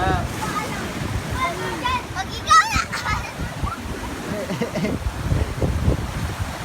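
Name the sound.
big ocean wave crashing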